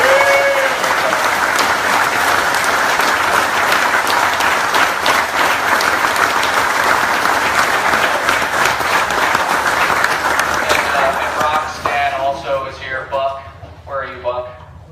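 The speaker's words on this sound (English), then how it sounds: "How about a huge round of applause?" Loud, sustained applause from a crowd at a golf club gathering honouring a fallen soldier's teenage son, dense clapping that carries on for several seconds before thinning out as a voice begins speaking over the fading claps.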